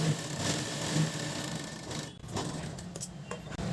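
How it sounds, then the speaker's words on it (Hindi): A sewing machine stitches through folded fabric, a soft, fairly quiet continuous mechanical whirr with faint rhythmic needle ticks, close by and without talk. "तो एक कपड़े फोल्ड कर लेते हैं और फिर इस पे सिलाई लगाएंगे।"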